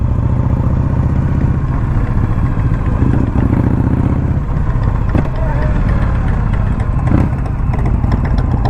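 A 2021 Indian Scout Bobber motorcycle rides out of a dealership parking lot, its engine a steady, close low thrum with a few rattles and bumps, while a voice talks over it.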